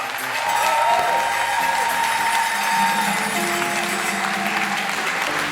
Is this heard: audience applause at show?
yes